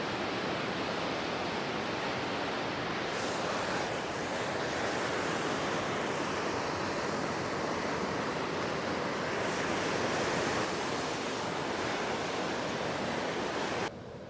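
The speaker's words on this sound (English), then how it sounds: "there's a lot of water moving through this spillway" Water rushing through a spillway at a fishing spot, a loud, continuous broadband roar like heavy surf that stays steady for about fourteen seconds before cutting off abruptly.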